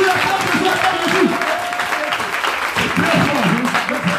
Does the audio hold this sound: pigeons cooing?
no